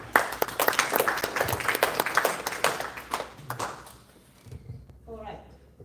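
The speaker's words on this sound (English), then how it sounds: "So we can give them a good clap." Audience at a meeting claps in a burst of dense, lively applause that thins out and fades, followed by a brief moment of talk near the end.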